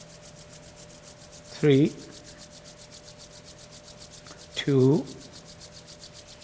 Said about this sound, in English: gently rub your palms together